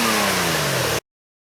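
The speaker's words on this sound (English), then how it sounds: "And now we'll have a listen to the engine." A Nissan Murano's VQ engine running, a steady mid-pitched engine tone held for about a second with a slight downward drift before cutting off abruptly to silence.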